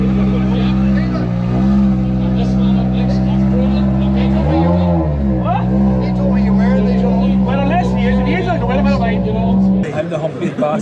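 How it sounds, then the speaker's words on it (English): A very loud rally car engine drones steadily from inside the cabin at a 2024 Donegal stage rally, with revs dipping and climbing midway, then cutting back sharply near the end, while people talk over it. "it's the loudest car I've ever been in"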